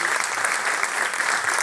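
Audience at a live bolero concert with an orchestra gives a dense, steady applause that is loud and continuous throughout, without talk.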